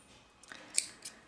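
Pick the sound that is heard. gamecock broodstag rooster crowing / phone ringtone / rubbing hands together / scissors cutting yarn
scissors cutting yarn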